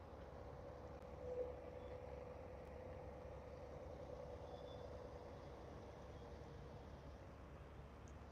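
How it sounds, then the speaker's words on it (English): Trucks rolling past on a road near Wilcox, Arizona, heard as a faint, distant, steady rumble of engines and tires with no single pass standing out. "You don't see nothing but trucks rolling."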